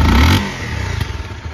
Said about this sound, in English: The 250cc single cylinder engine makes good power down low.